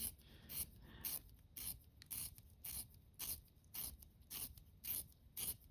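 A colored pencil being sharpened by hand gives a series of about eleven rhythmic, close-up rasping scrapes at a steady pace, each followed by a short pause. The room is otherwise quiet.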